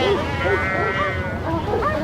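A flock of sheep bleats on a farm with several overlapping wavering calls close by, loud and continuous throughout.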